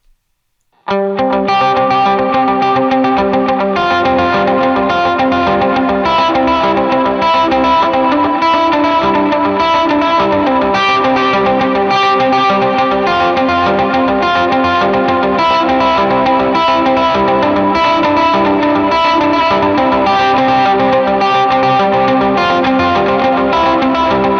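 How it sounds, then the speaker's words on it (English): Overdriven electric guitar runs through a NUX Tape Echo delay pedal with tape saturation and wow and flutter turned up, playing continuously and loud with repeating, warbling echoes and a distorted, saturated tone. "I'm turning on some overdrive in front of it, as well as I'm gonna play around with the saturation of the tape and the wow and flutter"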